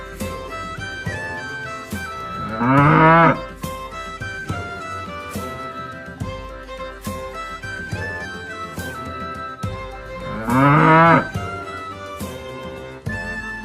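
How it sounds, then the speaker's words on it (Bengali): Over a bouncy children's tune, a loud drawn-out cow moo sounds twice, several seconds apart, standing out above the music. "গরু বাছু দাঁড়িয়ে আছে"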